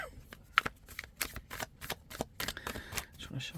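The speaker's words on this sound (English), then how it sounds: "Trying to shuffle it away from the microphone" Tarot cards being shuffled in a run of crisp, papery riffles and flicks, close by, with a faint voice in the background.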